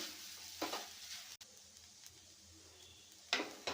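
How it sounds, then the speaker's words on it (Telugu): Puffed rice upma mixture is stirred in a hot pan: soft scraping swishes at irregular intervals over a faint background sizzle, with a sharp click midway and no talking. "ఈ మిశ్రమాన్ని మొత్తం ఒకసారి ఈవెన్గా కలుపుకోవాలండి"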